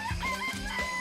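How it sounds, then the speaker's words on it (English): Chickens cluck in a coop in the Danganronpa video game, giving short, close clucks and warbling calls over a steady synthetic background tone. "I remember there was some chickens in the chicken coop."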